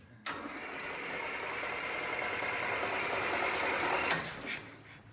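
A 1974 Land Rover Series III engine cranks and catches running on fuel from its tank, a steady loud mechanical churn holding for about four seconds before cutting off, with a brief clatter at the end.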